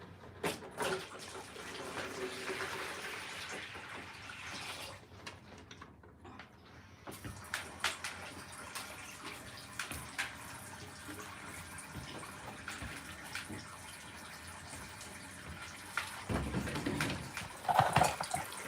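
Water runs from a tap into a container during a cockatoo livestream, a steady faint hiss and splash continuing for many seconds with a short break, interrupted by scattered clunks and handling noises.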